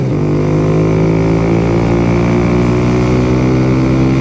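A Kawasaki Z125 Pro motorcycle with an O2 eliminator drones steadily downhill, its engine holding a loud, even buzzing note with layered harmonics and no voices.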